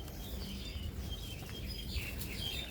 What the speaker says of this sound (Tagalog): Maraming huni ng ibon.